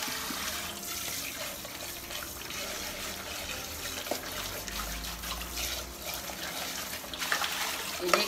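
Dishes are washed under running tap water in a kitchen sink, with a steady close stream of water, occasional light clinks and a faint voice in the background.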